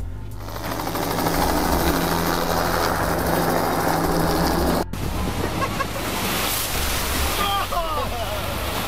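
Helicopters at Blue Lake during a wakeboarding shoot make a loud, steady rotor and engine roar that fills the whole stretch, with a brief cut partway through and a few faint chirps over the noise near the end.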